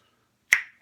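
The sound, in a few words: opening a bottle of lemonade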